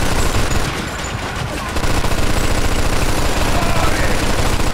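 A mounted machine gun in the video game Mafia 2 fires in a dense, continuous stream, loud and unbroken with a rumbling low end, briefly easing before surging again.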